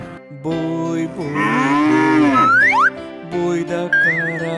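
An ox moos long and low in a children's song, set over bright tuneful music with sliding whistle-like notes and a bouncy rhythm.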